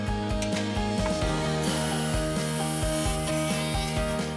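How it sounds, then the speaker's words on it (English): Milling machine cutting lock, cylinder and handle holes in an aluminium sliding-door leaf profile, a steady close mechanical whir with a fast rhythmic chatter of cutting pulses throughout. "The milling machine creates the holes for the lock, the cylinder and the handle in the leaf profile."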